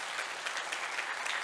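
Church congregation applauding for the elders during a revival meeting, a dense, even patter of clapping that holds steady and fairly quiet throughout.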